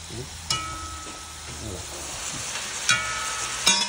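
Onions frying in hot oil in a pan for a chicken and pork with peas dish, giving a steady broadband sizzle with a few sharper clatters and stirring bumps throughout.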